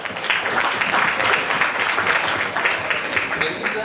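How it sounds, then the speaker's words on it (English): Applause from a conference audience, a steady dense wash of clapping that holds for about four seconds without letting up. "huge round of applause for R.T."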